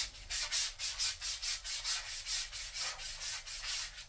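Steady back-and-forth sandpaper rubbing on PVC pipe being roughened to give it texture, even strokes about twice a second, close and continuous with no voices.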